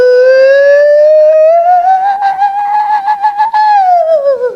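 A voice imitates a school siren with a sustained wailing tone that rises slowly, pulses rapidly in the middle, then falls away, loud and close.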